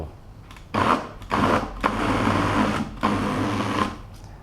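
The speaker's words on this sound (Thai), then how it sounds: "ปั่นจนส่วนผสมเนี่ยรวบเป็นก้อนได้แบบนี้นะครับ" A food processor or blender whirs as it mixes cheese tart dough with cold vanilla water until the mixture clumps into a ball, running in loud, steady bursts with brief pauses between pulses.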